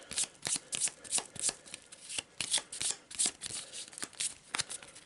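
Scavenge cards for an expedition board game are shuffled close up, giving a rapid run of crisp riffling bursts in a steady rhythm with little else underneath.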